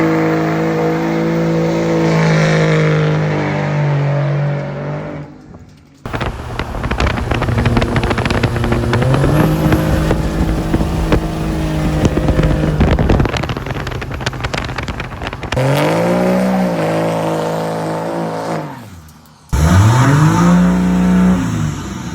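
A 2000 HP street Cummins diesel truck engine roars loudly as it accelerates, with rising and falling revs, gear changes and heavy wind noise, with brief drops in between.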